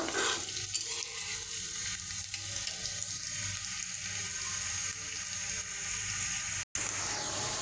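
Onions fry to light brown in a pan for a Bengali chicken and dal curry, a steady close sizzle with a bubbling hiss and an occasional stir, broken by one short cut of silence near the end.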